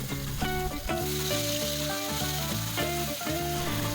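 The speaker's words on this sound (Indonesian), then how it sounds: "Tumis bumbu hingga benar-benar matang dan tercium harumnya." Spice paste sautéing in hot oil gives a steady, fairly soft sizzle running throughout, partly masked by melodic background music.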